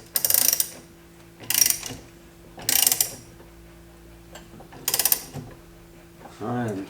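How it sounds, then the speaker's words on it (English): Gear puller tightened onto a John Deere Gator steering wheel with four loud bursts of ratcheting wrench clicks, each about half a second long and separated by pauses, heard close up, then a short low mechanical groan at the end. "So then we just tighten up."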